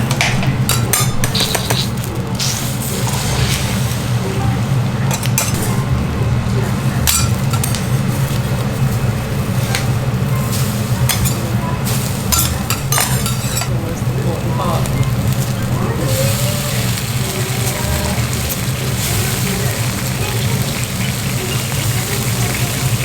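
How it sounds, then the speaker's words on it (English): Busy teppan griddle in a Hiroshima okonomiyaki kitchen, cooking soba noodles: a steady loud sizzle underlies repeated sharp metal clanks and knocks of spatulas striking the hot plate, with background chatter throughout. "Everything's sizzling, all of the things like clanging together, all the like hitting of the soba noodles."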